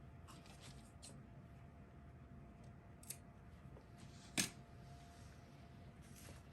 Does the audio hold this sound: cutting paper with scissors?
yes